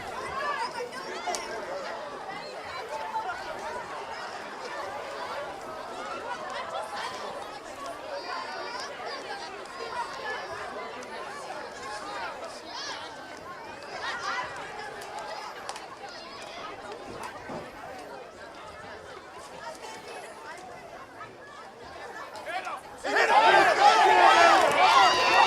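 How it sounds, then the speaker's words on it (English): A vociferous crowd in the stands at a high school football game between Oceanside and Farmingdale, a steady babble of chatter and shouting throughout that swells sharply louder near the end. "Crowd in front of us getting a little vociferous."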